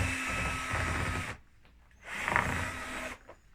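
A power drill drives a screw into a wooden baseboard being fitted along a wall, two sustained whirring bursts of about a second each with a short pause between, close and fairly loud.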